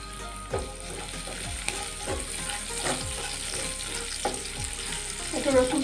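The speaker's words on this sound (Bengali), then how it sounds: "এবার আমি একটা সস বানাবো তেলে রসুন দিচ্ছি সসটা বানানোর জন্য" Garlic fries in hot oil for a sauce, giving a continuous sizzle broken by regular scraping stirs in the pan.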